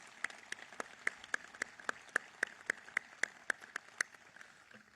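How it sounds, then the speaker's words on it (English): Clapping at a military change-of-command ceremony in Miami, heard as a thin, spaced series of distinct claps from only a few hands, fairly faint over quiet room tone. "A round of applause for these two awesome young men."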